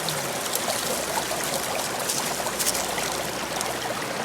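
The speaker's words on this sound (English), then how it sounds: "sluice box is running pretty sweet" Creek water runs through a gold-prospecting sluice box on a claim in Washington, producing a steady close rushing and trickling wash with no voices.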